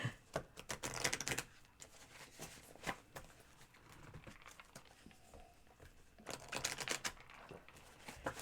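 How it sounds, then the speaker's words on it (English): Tarot and Lenormand cards being shuffled by hand, a dense run of quick crisp riffling clicks that come in bursts, pause, then resume, close and fairly soft with no talk over them. "I'm going to shuffle them again."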